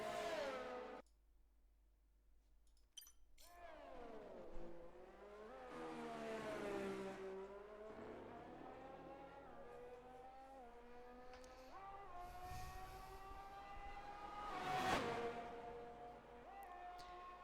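A race car heard from a distance on a lap, its engine note rising and falling through gear changes and swelling loudly as it passes, then fading back to a steady drone.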